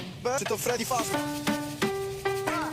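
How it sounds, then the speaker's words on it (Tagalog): A knife slices through a lemon with a few crisp, evenly spaced cuts, set against bright background music. "Tapos slice nyo lang lemon"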